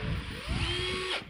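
A Makita-style cordless battery drill runs close up with a steady high whine that shifts pitch as the speed changes, then cuts off abruptly at the end.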